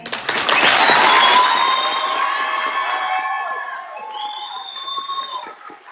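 A crowd at a county public library board meeting cheers and claps loudly. Shouts and whoops rise over the applause, then fade into scattered calls and murmuring.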